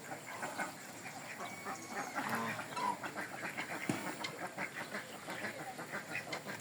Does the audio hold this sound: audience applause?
no